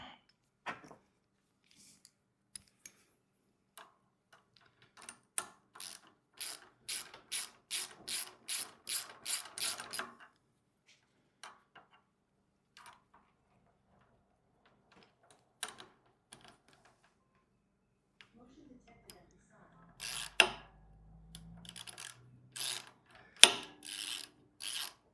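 A ratchet tightens the handle on a VEVOR 2.8HP 78.5cc gas plate compactor, with quick runs of metallic clicks and later a short burst of fast ratcheting between scattered soft taps and long quiet gaps.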